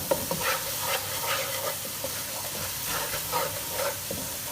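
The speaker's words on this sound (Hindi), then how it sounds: "इन सब चीज़ों को अच्छी तरह से हम भूनेंगे मसाले के साथ" Spices and ingredients roast in ghee in a pan for a masala chicken kabab handi, a soft steady sizzle and hiss with occasional stirring scrapes, close and fairly quiet.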